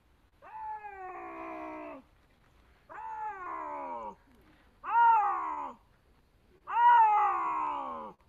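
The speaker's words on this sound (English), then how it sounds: "This, for example, is a bobcat." A bobcat meows four times, each a drawn-out, fairly deep, wavering call about a second long with short pauses between; the last two are louder than the first two, and all play alone over a quiet background.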